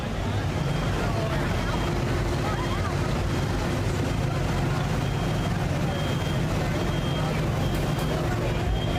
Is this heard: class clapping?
no